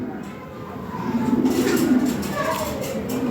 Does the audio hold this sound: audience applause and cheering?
no